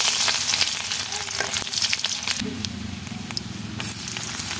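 Chopped garlic fries in hot oil as a tempering for mixed leafy greens, a steady close sizzle with crackles and stirring scrapes, no voice over it.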